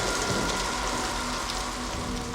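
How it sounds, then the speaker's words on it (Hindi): Heavy rain pours steadily and densely onto surfaces, a continuous close hiss and patter that holds at an even loudness throughout with no voices. "और तेज बारिश।"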